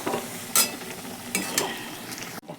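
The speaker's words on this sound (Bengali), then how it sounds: "ঢেকে ঢেকে কষাচ্ছি তরকারিটা" Vegetable curry sautéing with spices in a covered pan gives a soft, continuous frying sizzle broken by a few sharp metallic clanks of a lid or spoon, then a brief pause before the sizzle returns.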